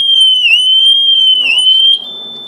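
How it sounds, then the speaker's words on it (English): A Honda VFR1200 motorcycle's alarm sounds as a loud, steady electronic tone that warbles twice in quick dips, then cuts off abruptly, leaving faint background rustle. "what I'm now going to do is disable the alarm, turn the juice on"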